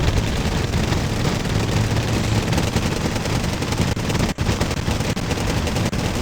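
Dense gunfire from the Wargame video game rattles on without a break: overlapping rapid bursts and machine-gun fire form a loud, continuous battlefield roar with no voices.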